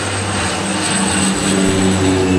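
An airplane passing overhead near the coast of Lanyu island, heard as a steady propeller-like engine drone with a sustained tonal hum at moderate loudness and no talking.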